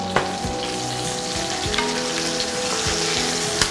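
Rabbit pieces frying in a pan in a restaurant kitchen, a steady close sizzle throughout with occasional sharper pops and crackles.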